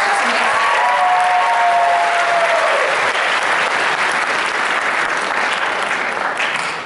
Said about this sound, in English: So I just want to give you guys a round of applause for pulling this together.